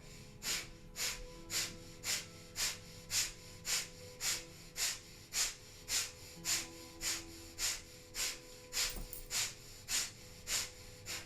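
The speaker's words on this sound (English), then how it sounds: "we'll begin breath of fire" Breath of fire, a rapid yoga breathing done through the nose: a long, even run of sharp, forceful exhales at about two per second, close and fairly quiet, with no talking.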